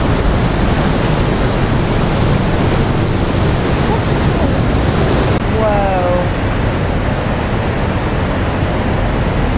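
Heavy, steady rushing water from a waterfall roars close by, a dense wall of noise; a voice exclaims briefly partway through.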